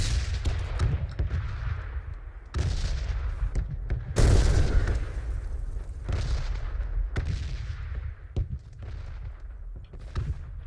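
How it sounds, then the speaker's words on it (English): PUBG red zone bombardment in the Xbox One video game: repeated deep booming explosions and bursts of gunfire, several distinct heavy blasts spaced a second or two apart over a rumbling background. "We just gotta hang out in here until the bombs stop going."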